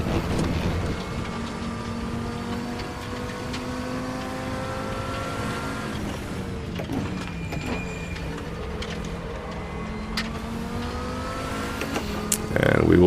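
A race car engine held at full throttle on the Road America track in RaceRoom Racing Experience, a loud sustained whine with gear-shift pitch drops and a brief lift near the end.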